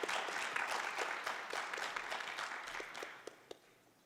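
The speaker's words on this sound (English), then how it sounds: "One more round of applause for Miss Lorraine." Audience applause at the Miss Indian Arizona pageant for Miss Lorraine: steady, dense clapping from a crowd that stays loud and full, then thins and tapers off toward the end.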